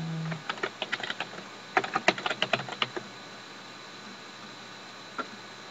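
Quick bursts of typing on a computer keyboard while entering login details, sharp clicky keystrokes in two uneven runs separated by a short pause, then a single final tap after silence, close and fairly quiet with no speech.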